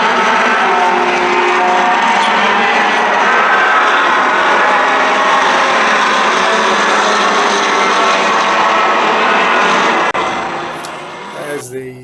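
A Formula Atlantic race car engine screams at speed in fifth gear through a big sweeping turn at Sonoma during an SCCA race. The steady, loud onboard drone holds for about ten seconds, then eases and fades.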